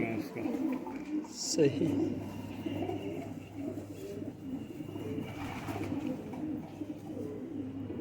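Amber Sira pigeons coo faintly under a voice, with a brief louder burst of sound near the start and low soft murmuring throughout.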